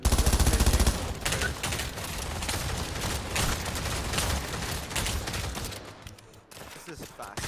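Rapid bursts of gunfire in the Pavlov VR shooter game, dense and sustained for several seconds with voices faintly underneath, thinning out near the end.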